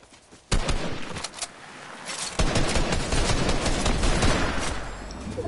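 Sniper rifle shots in Fortnite, a sharp loud crack followed by dense rapid gunfire and battle noise, close and sustained with no talk over it.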